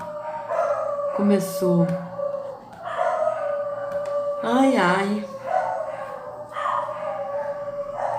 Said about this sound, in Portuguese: Os cachorros dos vizinhos.